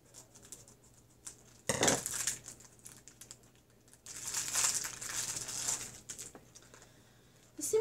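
Necklace packaging crinkles and rustles in two bursts of plastic handling, close and moderately loud, with quieter fiddling between them and no talking.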